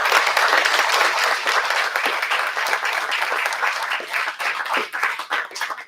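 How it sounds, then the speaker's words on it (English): Audience applauding policy panelists at a pensions forum, a full burst of clapping that starts strong and thins out toward the end, with scattered claps trailing off. "please give a round of applause to the panelists"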